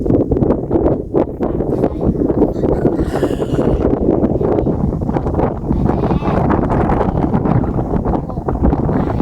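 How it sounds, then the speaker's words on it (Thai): Wind gusting straight into the microphone, a loud low rumbling buffet that rises and falls throughout, with faint rustling in the background. "คลิปนี้ก็ได้ยินเสียงลมบูบู"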